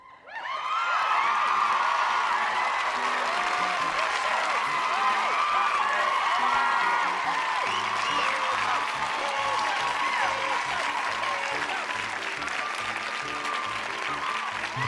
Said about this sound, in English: They're still cheering.